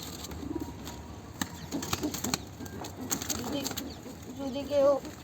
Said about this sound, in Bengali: কোয়ালিটি কবুতর এগুলো